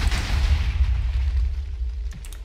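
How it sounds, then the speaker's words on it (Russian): A loud, low rumbling explosion in a Minecraft-style video game, a sustained boom that slowly decays over two seconds, with a faint sharper crackle near the end. "Я без зажигалки подорвал студию Ургант."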